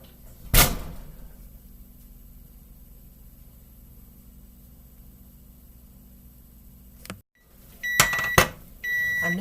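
An oven door thuds shut once near the start after a tray of chocolate chip cookies goes in to bake, then a quiet kitchen hum follows, with a few beeps near the end.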